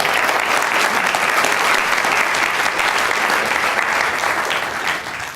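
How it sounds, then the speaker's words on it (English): Audience at a science communication competition final applauds the judges, a dense, steady wash of clapping that fills the whole stretch and thins slightly at the end. "Round of applause, please, for all of our judges"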